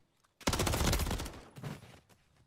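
Sustained automatic gunfire erupts in a Call of Duty esports match, a loud rapid burst after a quiet moment, then a shorter trailing volley.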